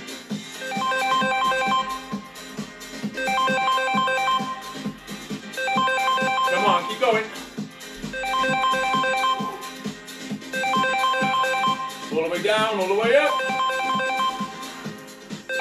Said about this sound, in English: Oh, that's my phone ringing.